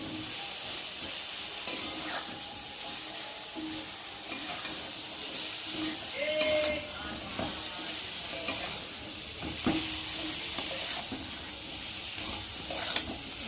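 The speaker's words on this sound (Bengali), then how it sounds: "একটু ভালো করে না ভেজে নিলে একটা গন্ধ বেরোবে কাঁচা কাঁচা আদা, তার জন্য একটু ভালো করে ভেজে নেব" Ginger sizzling steadily in oil in a pan, a continuous frying hiss with occasional stirring scrapes and small clinks, close up and alone.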